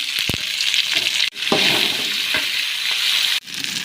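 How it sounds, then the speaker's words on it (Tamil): Shallots, garlic, green chilies and tomato for chicken kurma sizzle loudly in a hot pan, a steady close frying hiss broken by stirring scrapes and clinks, with no talking. "சின்ன வெங்காயம் பத்து பல்லு பூண்டு சின்னத்து பீஞ்சு ரெண்டு பச்சை மிளகா அதையும் சேர்த்து வதக்கிடுவோம்"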